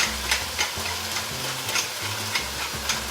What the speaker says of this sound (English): Ooh, it's sizzling, it's sizzling.